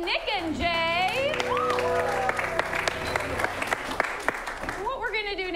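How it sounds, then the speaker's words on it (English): An improv comedy audience applauds three performers called to the stage, a steady wash of clapping running beneath an announcer's voice and cheerful music throughout. "Give a round of applause for Jen, Nick, and Jay."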